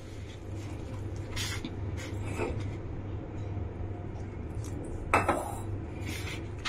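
A homemade black hair dye paste stirred in a bowl, with soft intermittent scraping and clinking of a utensil against the bowl over a low steady background hum.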